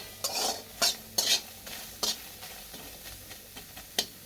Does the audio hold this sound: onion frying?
yes